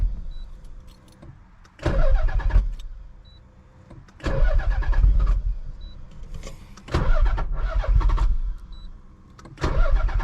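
A car with a suspected blown engine is cranked over in several separate attempts, each a loud burst of starter and engine noise lasting a second or more, separated by quieter pauses.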